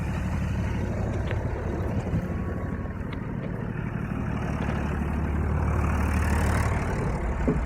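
A tractor's steady, low engine drone runs throughout, a heavy diesel rumble that stays constant and fairly close, with no talk.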